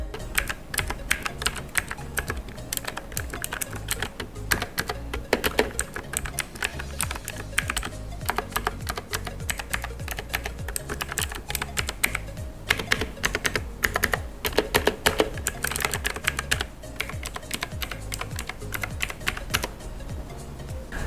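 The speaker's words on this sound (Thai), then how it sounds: "ส่วนเรื่องเสียงของคีย์บอร์ดเนี่ยจะเป็นยังไงนะเดี๋ยวเราไปฟังกันดูดีกว่าครับ" Steady clacking of a Motospeed K86 mechanical gaming keyboard, keys struck rapidly and continuously up close, a dense crisp patter with occasional louder strokes.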